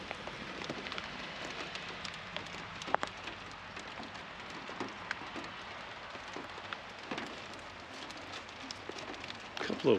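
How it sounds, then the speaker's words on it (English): Hail falls during a winter storm, a dense, steady patter of small hard impacts with scattered sharper ticks, moderately faint and continuous. "this is hail. It's not snow."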